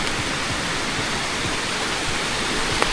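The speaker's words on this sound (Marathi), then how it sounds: "समोर एकदम सुंदर असं वॉटरफॉल म्हणता येईल आपल्याला" A monsoon waterfall on a trek through the Sahyadri hills between Rajgad and Raigad roars as a steady, dense rush of falling water, loud and close, filling the whole clip with no voices.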